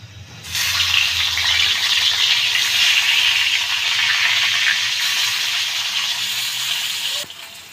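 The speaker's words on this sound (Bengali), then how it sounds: "অলরেডি গরম হয়ে গেছে, তেল দিয়ে দিলাম। এখন মাছগুলো দিয়ে দিব।" Taki fish hitting hot oil in a pan sets off a loud, steady sizzle that swells quickly and holds evenly for several seconds before cutting off abruptly.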